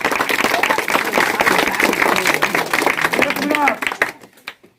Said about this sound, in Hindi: इनके लिए जोरदार ताली से स्वागत किया जाए।